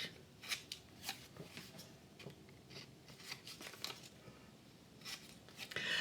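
Scissors snip paper for handmade journal inserts, a series of faint, quick, crisp cuts spaced irregularly across a quiet room.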